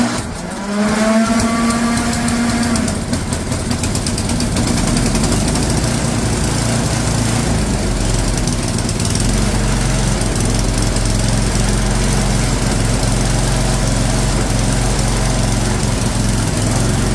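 Craftsman snowblower engine started after a shear pin repair, running loud and close in a steady, continuous drone after a brief rising catch at the start, with no talk over it.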